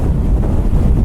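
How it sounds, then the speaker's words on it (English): Strong wind buffets the microphone while a Kawasaki Z900 RS rides through a windy mountain valley, a loud, steady low roar with gusty swells, no talking. "Whoa, it's windy as motherfucker."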